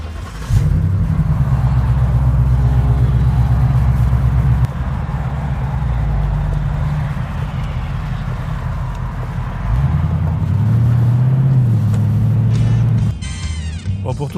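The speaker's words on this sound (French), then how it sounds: "Bon, écoutez bien le moteur d'abord." A Ford Mustang's 5-litre engine idles and revs loudly nearby, a deep steady rumble that swells twice into louder revving before dropping back.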